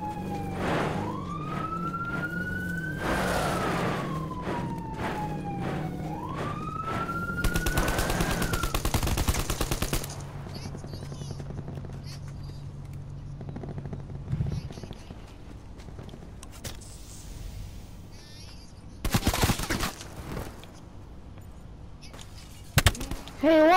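Gunfire from a teammate in Call of Duty Black Ops 4 Blackout, a few loud sharp bursts late on, heard amid siren-like wailing, game announcer audio and rumbling background.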